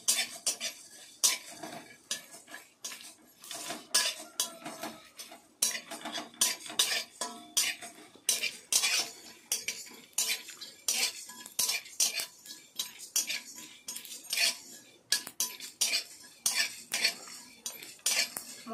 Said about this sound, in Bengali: এবার এর মধ্যে আমি ধনে, মৌরি, মেথি, জিরে দিয়ে দিলাম, একসঙ্গে দিয়ে ভেজে নেব।